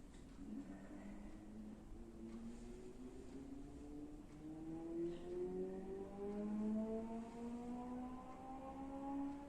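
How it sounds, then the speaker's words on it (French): Motorcycles pass at a distance through a small village, their engine tones rising and sliding as they go by, steady and fairly faint with no voices. "il y a quand même des motos qui passent et on entend le bruit"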